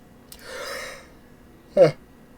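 A person yawns with a long, breathy drawn-out exhale, then a short sharp gasp or snort close to the microphone; no speech.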